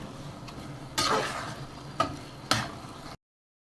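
Cumin and garam masala powder frying in a pan for achari dal, with a steady low sizzle and three sharp utensil scrapes or clinks standing out, close and alone with no voices.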